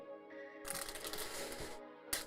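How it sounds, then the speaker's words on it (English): A tall stack of baseball card packs being shuffled by hand, a dense crinkly riffle of foil wrappers rustling steadily for over a second, close up with a brief flick at the end. "12 years in baseball card pack shuffling school finally paid off."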